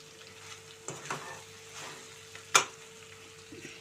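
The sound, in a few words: chicken frying in a pan with onion, green chilli, curry leaves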